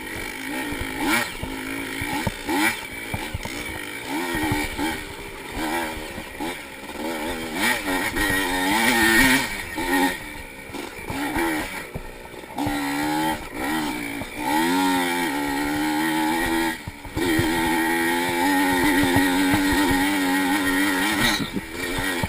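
A Kawasaki dirt bike racing cross country, engine revving and shifting at varying pitch as it passes and climbs, fairly loud and continuous without talk.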